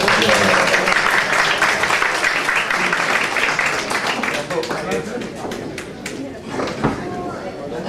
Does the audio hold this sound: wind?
no